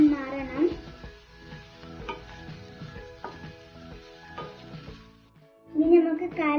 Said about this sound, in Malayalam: ഇനി ഒരു ടീസ്പൂൺ ഇഞ്ചി വെളുത്തുള്ളി പേസ്റ്റ് നന്നായിട്ട് ഇളക്കി കൊടുക്കാം